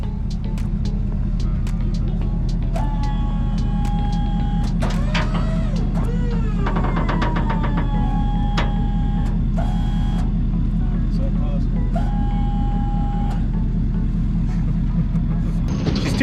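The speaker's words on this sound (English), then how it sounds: "So we got Blake back here with the skid steer. We're gonna try to get some dirt out real quick." A skid steer rumbles steadily close by while digging out dirt for a shop build, its low engine drone continuous beneath intermittent metallic clanks and squeaks.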